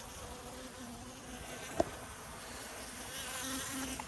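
Honeybees from the Rosemary Colony buzzing steadily around an open hive during a spring inspection, a dense continuous drone with one brief sharp knock partway through and no voices.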